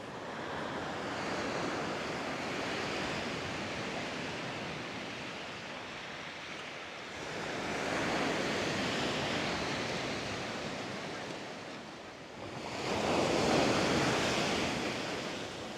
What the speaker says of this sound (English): those waves are coming all the way up